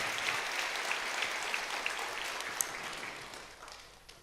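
A church congregation claps in steady applause after a service performance, moderately loud at first, then thinning and fading toward the end.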